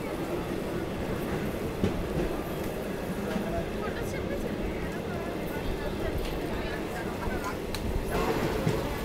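The Ratnachal Express moves off from platform 1 with a steady rumble of rolling wagons and faint rhythmic rail clatter. Occasional sharp knocks break through the drone.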